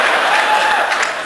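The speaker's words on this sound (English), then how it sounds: "I am at a place where that joke gets applause." A convention audience at the opening ceremony of Chicon 7 bursts into loud applause, a brief, dense burst of many hands clapping at close range.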